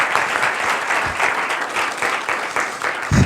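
An audience claps steadily and fairly loudly in a lecture hall to welcome a law professor giving a named lecture, a dense continuous applause throughout.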